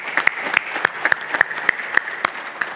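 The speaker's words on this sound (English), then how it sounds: "let's have a round of applause for Michelle," Audience applause for panelists at a corn and soybean industry panel event, a steady patter of many hands clapping with sharp individual claps standing out, moderately loud and continuous with no talk.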